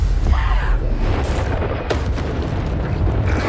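Bombarda blasting spell in Hogwarts Legacy combat: a dense, sustained low rumbling explosion filling the clip, booming steadily with a brief sharper burst midway, loud and close.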